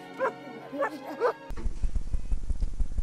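Spike the dog from The Rugrats Movie gives a few yips and whimpering barks, followed by a busy stretch of rhythmic thumping and commotion, with voices briefly present.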